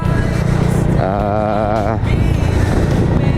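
A motorcycle rides along a wet, rainy road in Matawi, its engine droning steadily under continuous road noise and tire spray, rising briefly in a wavering pitch midway.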